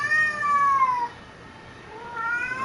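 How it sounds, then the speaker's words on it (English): A house cat meows and yowls loudly in two drawn-out, wavering cries with a short lull between them, close by and alone with no talk over it. "Just listening to my cat fucking yell and scream and yell and scream"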